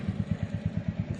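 A motorcycle engine chugs close by in a quick, even pulse of low throbs, steady through a short burst with no voices.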